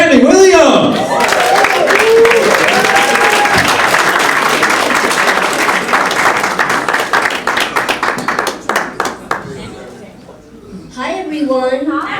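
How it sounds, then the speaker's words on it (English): Audience applause and clapping for comedian Tammy Williams at a comedy club, loud and sustained from a close crowd, thinning out toward the end as a voice begins over the last clapping. "Please clap it up for Tammy Williams."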